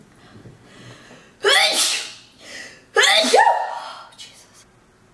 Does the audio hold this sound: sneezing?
yes